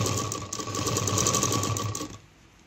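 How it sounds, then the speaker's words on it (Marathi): Sewing machine running steadily while stitching a fabric dhol bag, a continuous close mechanical whir for about two seconds before it stops and the room goes quiet. "तर आतल्या साईडला फोल्ड करायची आहे आणि दाब शिलाई मारायची आहे"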